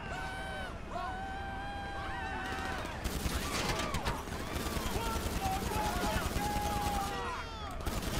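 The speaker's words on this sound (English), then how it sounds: "This is because everybody comes out and shoots at you." Heavy gunfire from enemies in GTA 5 Online, with dense bursts of automatic and single shots rattling almost without pause across the scene, loud and close, while game voices and shouting mix in underneath.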